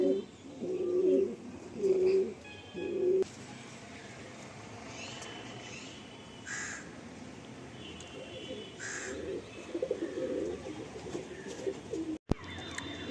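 Madrasi pigeons coo in low, rolling bursts, several close calls in the first few seconds, then softer intermittent coos and faint rustling, with occasional voices nearby.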